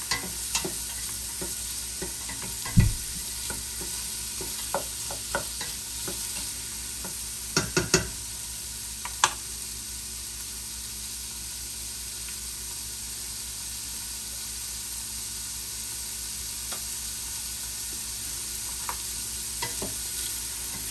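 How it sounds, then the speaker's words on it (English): Quinoa and beans chili ingredients stirred in oil in a pot, with a soft, steady sizzle and occasional scraping clicks from the spoon, fairly quiet throughout. "And give it a stir just to get everything coated with the oil."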